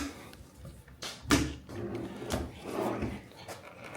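A hotel room drawer slides open with a short wooden rub and knock, near and fairly quiet, followed by faint handling noises.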